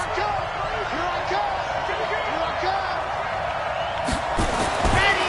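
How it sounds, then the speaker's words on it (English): Stadium crowd noise at Arrowhead during a late third-and-goal play in a PS4 football video game, a steady loud roar with scattered whoops and swells that rise in the final seconds. "this is where the Arrowhead crowd can make it very tough"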